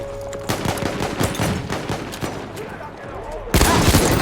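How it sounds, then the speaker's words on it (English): Rapid gunfire in the first-person shooter Battlefield 1's Incursions mode: repeated sharp bursts and single shots rattle close by, building to a louder, denser volley at the end, with faint voices mixed in. "Good shooting, son."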